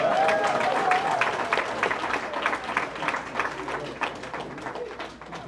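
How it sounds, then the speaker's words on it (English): An audience at a watershed science and leadership awards ceremony in Newark claps continuously, a thick even patter with a few voices early on, gradually thinning toward the end. "Can we give these brothers another round of applause?"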